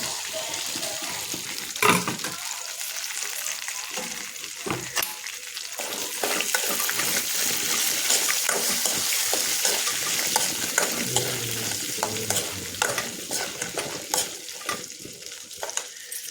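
Chillies fry in a pan with a steady crackling sizzle, broken by sharp stirring scrapes and clatters of a spoon, loud and close throughout.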